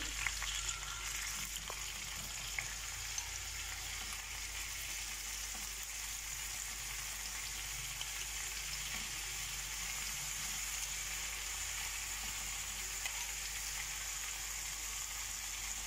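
Chicken pieces sizzling on a tawa griddle, a steady soft hiss of frying that carries on evenly, with a few faint knocks and no talking.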